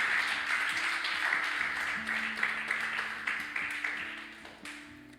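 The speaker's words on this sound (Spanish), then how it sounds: "denle un fuerte aplauso a ese Dios que nos ayuda." Church congregation clapping during a sermon, a moderate wash of applause with a sustained musical tone underneath and a few scattered louder claps as it gradually thins out.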